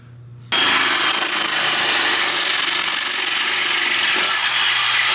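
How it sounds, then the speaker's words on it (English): A power drill starts abruptly and runs continuously at high speed, boring a hole for a rivet nut in an R33 Skyline body panel, loud and close with a steady whine. "I'm gonna drill a hole and put a rib nut in it"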